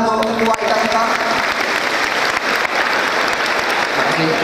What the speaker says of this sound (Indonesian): ini Pak Enanda, tepuk tangan untuk Ketua IKITS.